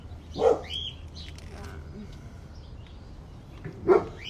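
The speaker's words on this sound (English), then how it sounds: "These are my dogs." Dogs bark in two short, separate bursts at moderate distance, one early and one near the end, with quiet steady background noise in between and no talking.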